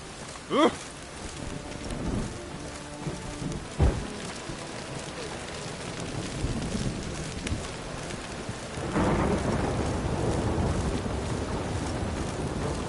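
Steady rainfall with low thunder rumbles in The Witcher 3: Wild Hunt, broadening into heavier downpour toward the end, with a couple of sharp cracks early on and faint game voices murmuring beneath.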